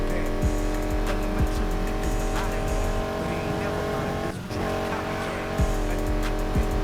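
Tire squeal and engine roar from a car drifting in the racing game Need For Speed Heat, a sustained loud skidding whine over a revving engine with brief thumps, someone talking over it.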